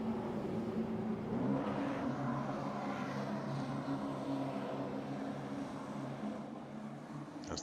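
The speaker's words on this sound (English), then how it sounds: "As the pace car comes off the track" Late model race cars circle Thompson Speedway in iRacing behind the pace car, a continuous dense engine drone that holds steady and loud throughout.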